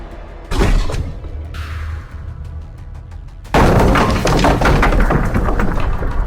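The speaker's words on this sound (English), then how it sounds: "A massive explosion erupted." A sharp thud, then a rumbling whoosh, followed by a loud burst of crackling, debris-filled explosion noise that continues to the end.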